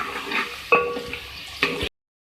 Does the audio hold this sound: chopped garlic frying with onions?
yes